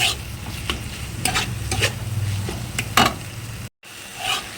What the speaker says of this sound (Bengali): দিয়ে আবারও আমি একটু নাড়াচাড়া করে নেব, যাতে টমেটোটা আমার এখানে খুব ভালোভাবে গলে যায়